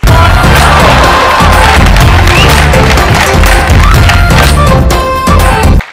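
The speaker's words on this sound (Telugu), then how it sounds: "కానీ ఎవరికి ఇలా లేచి చప్పట్లు కొట్టలేదు." A studio audience at a Telugu television talk show gives a standing ovation, loud and dense, with continuous clapping and cheering that fills the room and then cuts off abruptly near the end.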